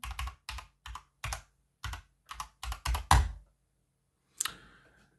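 Bursts of typing on a computer keyboard, clear and close, with clusters of keystrokes followed by a pause and a final short flurry of keys.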